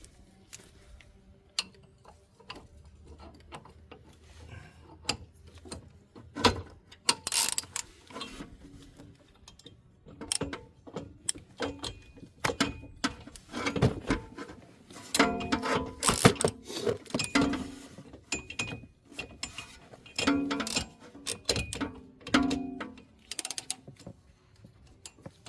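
Hand tool working the tie rod on a Volvo XC90, giving irregular ratcheting clicks and mechanical creaks close up, with scattered metallic knocks and taps throughout and no voices.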